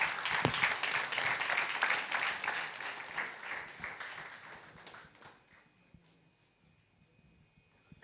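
A church congregation claps and cheers in praise, dense sustained applause that fills the room for several seconds, then thins out and fades to scattered quiet noise.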